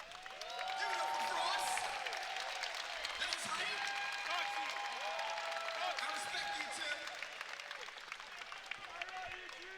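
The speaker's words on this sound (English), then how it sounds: "A round of applause, giving us some Frost play," Crowd applause at a Mortal Kombat 11 fighting game tournament, CEO 2019 top 8: steady clapping and some cheering from a large audience, sustained throughout beneath a commentator's talk.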